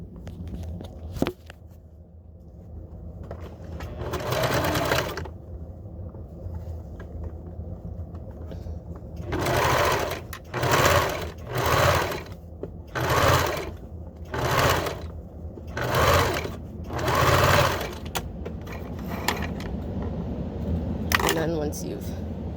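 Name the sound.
sewing machine stitching around elf hat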